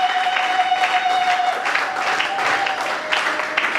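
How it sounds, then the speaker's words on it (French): Church congregation applauding during a Sunday worship service, a steady wash of clapping and crowd noise filling the whole stretch at close range, with a sustained tone running beneath it. "Acclamons pour toi le Seigneur."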